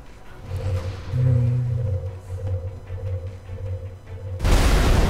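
A Shredder rocket detonates in XCOM: Enemy Unknown, opening with a low droning hum before a loud, broad explosive blast erupts near the end.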